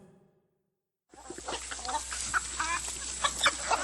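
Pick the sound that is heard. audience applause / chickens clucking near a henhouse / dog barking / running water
chickens clucking near a henhouse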